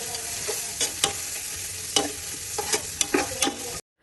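Ginger garlic paste frying in a pan for Thalassery chicken rice, a soft close sizzle broken by several scraping stirs of a spoon before the sound cuts off.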